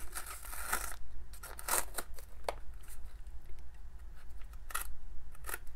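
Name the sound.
dull scissors cutting paper wrapping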